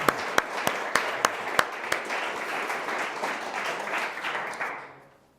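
An audience at a lecture claps to welcome a guest, starting with a few sharp, distinct claps that swell into steady, fairly loud applause before fading out near the end.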